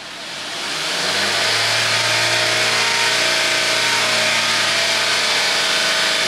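A 2005 Honda CR-V engine with a VTEC fault (code P2646) revs up in the first second and then holds a steady, loud drone at about 3000 RPM, with no talking.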